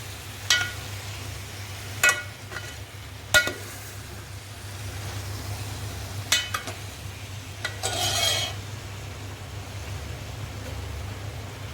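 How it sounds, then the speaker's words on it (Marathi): Vegetables and masala get stirred in a pot for veg biryani, a few quiet spoon scrapes and knocks spaced seconds apart over a low steady hum, with a longer rasp near the end. "ह्याला थोडं आता हलवायचं ह्याचा मसाला शिजला पाहिजे"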